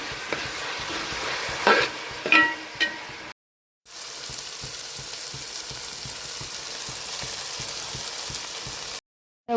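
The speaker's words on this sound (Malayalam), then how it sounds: "ഉള്ളി നന്നായിട്ട് വഴണ്ട് വരട്ടെ അപ്പോൾ ലോ ഫ്ലെയിമിലിട്ട് വരട്ടിയെടുക്കുന്നതാണ് നല്ലത്" Onions for a crab curry sauté on a low flame, giving a continuous soft sizzle. A few louder stirring scrapes come early, with two brief dropouts to silence and no speech.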